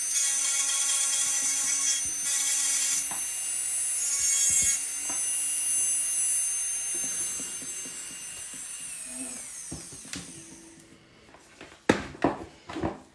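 A hand file rasps steadily back and forth across a nail for several seconds, then gives way to scattered lighter taps and scrapes near the end.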